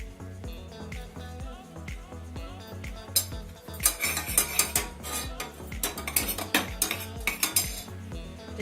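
Saffron is stirred into milk, a spoon clinking and scraping repeatedly against a bowl in quick, uneven taps that grow busier and louder midway.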